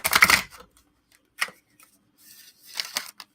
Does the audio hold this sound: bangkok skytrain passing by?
no